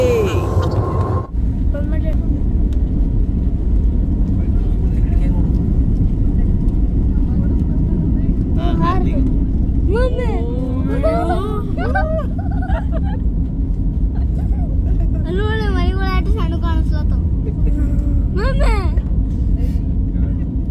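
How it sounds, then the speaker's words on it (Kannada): Passenger airplane taking off and climbing on a flight from Bengaluru toward Agra, a loud continuous engine roar filling the cabin throughout, with people talking intermittently over it. "ಈಗ ವಿಮಾನ ಹಾರೋದಕ್ಕೆ ರೆಡಿ, ಮೇಲೆ ಹೋಗ್ತಾ ಇದ್ದೀವಿ"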